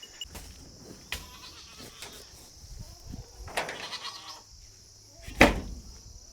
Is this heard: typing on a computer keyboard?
no